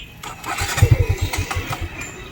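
A Suzuki Gixxer motorcycle with an empty carburetor is cranked close up, giving a short burst of rapid, uneven starter chugs that never catch into a running engine.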